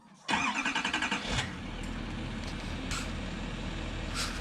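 A 2019 Chevy 2500HD Duramax diesel truck cranks with a rapid run of loud starter pulses, catches, and settles into a steady low diesel idle, close by and with no speech.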